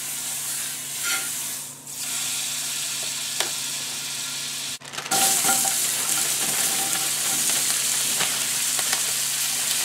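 Onions in large pieces sizzle in butter with salt and pepper in a pan, a steady close frying hiss with the scrape of stirring and a brief clatter partway through.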